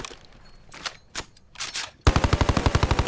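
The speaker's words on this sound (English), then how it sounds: "Then we've got the Little Ripper, which is a light LMG, since Apex doesn't currently have one." The Little Ripper, a light LMG in Apex Legends, fires: a few scattered shots come first, then a loud, rapid sustained burst of automatic fire with a whining edge.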